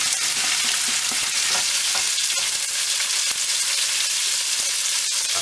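Sliced onions frying in rapeseed oil with cardamom for a Rajasthani lamb curry, a loud continuous sizzle with occasional stirring scrapes and no talk.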